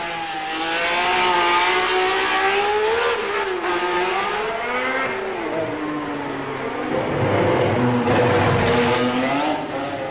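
Formula One race cars at Monaco in 1972, including Clay Regazzoni's number 7 Ferrari, roar loudly and continuously, with engine pitch rising and falling as they accelerate and pass.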